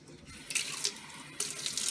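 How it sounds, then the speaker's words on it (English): Tap water runs into a container holding a block of ice for a physics lab, a hissing splashy stream that starts, briefly drops, then surges again nearby. "Let me fill it up with some extra water."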